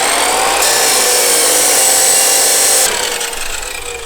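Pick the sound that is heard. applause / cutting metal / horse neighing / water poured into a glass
cutting metal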